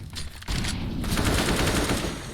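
Automatic AK rifle fire in a Counter-Strike match, a dense burst of rapid shots starting sharply after a brief lull and continuing loud and steady, with busy game noise underneath.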